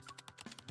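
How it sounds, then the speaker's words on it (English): Quick, evenly spaced clicks from typing on a computer keyboard, about eight light keystrokes in a brief burst, close and soft with no talking. "His slender fingers swiftly dance across the keyboard, producing a constant click-clack sound."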